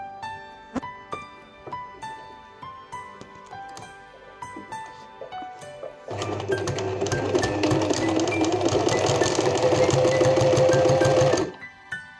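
A sewing machine stitches curtain fabric, first a few short quiet bursts of needle clatter, then a loud continuous run of rapid stitching for about five seconds that stops abruptly, close up with no voices.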